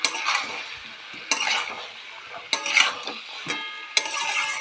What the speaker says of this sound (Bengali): এখন আলুগুলো বেশ ভালো করে নাড়তে থাকবে অনেকক্ষণ ধরে।